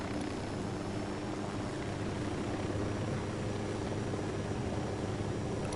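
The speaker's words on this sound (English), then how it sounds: "Unidad chopper is passing." A steady, droning helicopter rotor roar from Ghost Recon Wildlands holds at an even loudness throughout, a broad low rumble with no voices.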